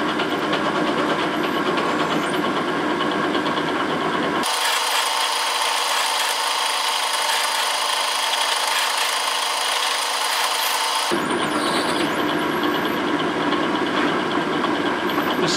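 A machine drill grinds steadily through a metal part for a model bow thruster, a continuous harsh whirring with a change in tone midway as the cut deepens, and no talking.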